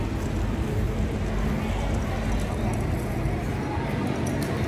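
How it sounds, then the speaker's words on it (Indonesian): Steady rain falls on a city street in central Hanoi near Trang Tien Plaza, a dense continuous hiss close by with no pause across the whole stretch. "Hujan."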